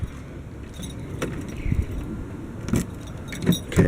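Car keys jangle and clink while the doors of a 1986 Mercedes-Benz 560SL are locked, in a few short metallic rattles and knocks at close range, with no talk.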